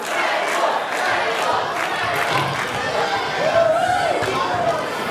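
Wrestling arena crowd chanting loudly in unison at a live Evolution 2021 event, a dense roar of voices throughout with a commentator talking over it.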